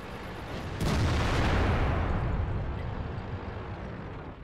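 A single heavy tank cannon shot from the VK 72.01(K) in World of Tanks: a sudden loud boom that rolls into a long, slowly fading rumble over several seconds, with no talking.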